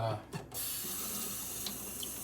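Water pours steadily from a tap onto a sharpening stone slurry in a continuous, close rushing hiss, with a faint clink near the start.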